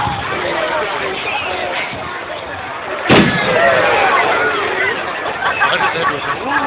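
Firework missile bursting with a single sharp bang at a bonfire night display at a welfare ground, followed by crackling, amid constant crowd chatter and nearby voices.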